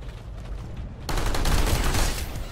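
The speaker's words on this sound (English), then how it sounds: "Gunshots." Dense gunfire in the video game Planetside 2, a rapid stream of shots that grows noticeably louder and more intense about a second in and keeps going.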